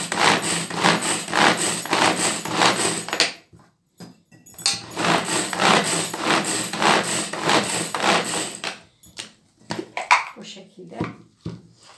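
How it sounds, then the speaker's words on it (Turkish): A food processor chops onions and garlic in two long, steady whirring runs separated by a brief stop, loud and close, followed by clattering as the lid and bowl are handled. "Rondodan çekiyorum soğanlarla birlikte. Bunu da böyle çekeyim."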